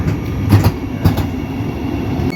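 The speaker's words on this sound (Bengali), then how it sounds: "তো ট্রেন কিন্তু অলমোস্ট চলেই এসছে" Vande Bharat Sleeper Express train 27575 rolls into the station with a loud, close rumble and a few heavy rhythmic wheel clacks over the rails, with no voices.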